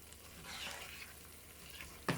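Cashew paste masala, mixed with salt, black pepper and white cumin, sizzles softly as it is stirred and sautéed in a pot, a steady low frying hiss ending with a sharp utensil clink.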